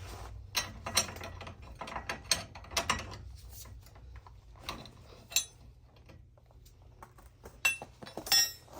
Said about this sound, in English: I'm going to go ahead and use a 21 millimeter wrench to go ahead and loosen this nut